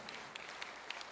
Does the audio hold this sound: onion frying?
no